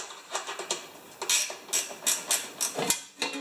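Metallic clicking and tapping from a ratchet wrench being worked on a snow machine, a string of short irregular bursts close by with no talking.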